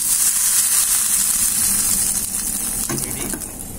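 Curry leaves sizzle in hot coconut oil, a loud, dense hiss that eases slightly toward the end, with a brief stir or clink near the close and no speech.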